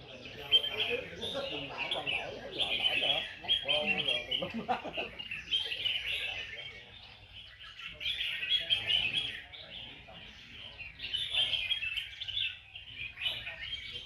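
Caged red-whiskered bulbuls at a singing contest in Bình Dương, Vietnam, pour out bursts of high, warbling chirps in overlapping phrases, with people chatting quietly underneath.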